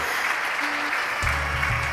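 Applause at the Aarohan Social Innovation Awards 2019 ceremony, a steady broadband wash of clapping held evenly across two seconds, with a low hum entering partway through.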